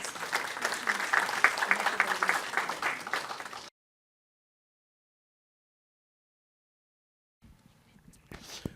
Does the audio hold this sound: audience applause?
yes